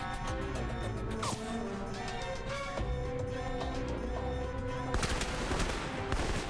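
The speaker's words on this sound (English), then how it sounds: "How'd they not hear the gunfire and be like, we should sound the alarm?" Dense rapid gunfire and crashing impacts fill a firefight in the video game Alpha Protocol, set in Taipei, with loud continuous bursts and a heavier volley near the end.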